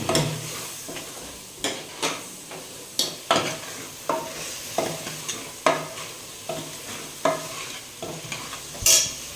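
Tomatoes and coriander powder frying for a mutton curry, with a regular series of sharp spoon scrapes and knocks against the pan, roughly one every half second, over a steady sizzle.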